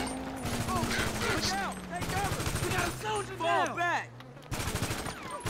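Rapid automatic gunfire bursts in GTA Online during the Cluckin' Bell Farm Raid, repeated loud volleys with game sound effects, while someone talks over the shooting.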